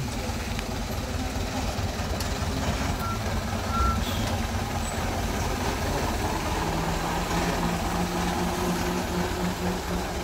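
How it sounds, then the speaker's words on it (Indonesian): A large Fuso diesel truck engine, 125 PS, rumbles steadily nearby while a repeating reversing beep sounds over it, with voices in the background. "Ini dia truk full diesel 125 PS yang muatan begitu tinggi"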